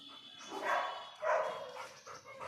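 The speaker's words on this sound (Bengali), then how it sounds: "এই যে ব্ল্যাক কালারের যেটা দেখছো, এটা হচ্ছে ল্যাব্রাডর" A black Labrador of about nine years barks twice in fairly loud, separate bursts, with softer whiny yips between and after them.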